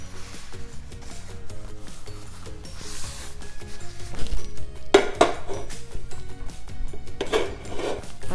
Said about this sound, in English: I'm just gonna wipe the pan out.